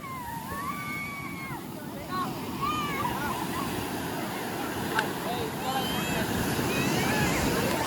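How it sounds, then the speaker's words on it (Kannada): Ocean waves surge and wash onto Someshwara beach in Mangalore, a steady broad roar of surf with wind on the microphone and gulls or bird calls faintly above, continuous throughout. "ಇಲ್ಲ ಅಲೆಗಳು ನೋಡಿ ಇಲ್ಲಿ."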